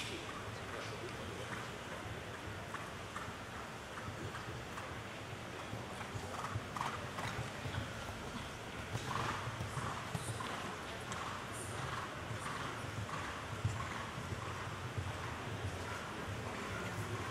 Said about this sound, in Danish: Trav på diagonalen derefter højre galop.